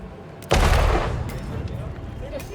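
A sudden loud boom erupts in the Hitman video game, a sharp explosion that decays over a couple of seconds beneath steady game ambience.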